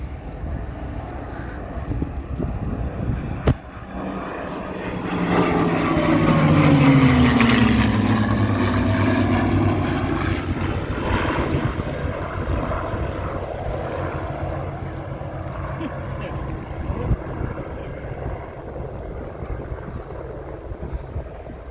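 The Allison engine of a P-63 Kingcobra and the Merlin engine of a P-51 Mustang drone loudly as the planes pass overhead, the roar swelling and its pitch sliding down as they fly by, then settling into a steady rumble.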